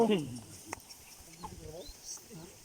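Soft chickens clucking in short bursts nearby in a sweet potato field, with faint background noise and a brief voice at the start.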